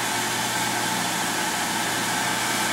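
A Tormach PSG6 belt grinder spinning with no belt fitted, a steady quiet hum and airy whir without rattling, heard up close and alone.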